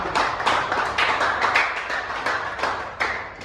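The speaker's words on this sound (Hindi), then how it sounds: "जोरदार तालियां।" Continuous applause from a group at a student award ceremony, dense and steady clapping that fills the whole stretch at a fairly loud, close level.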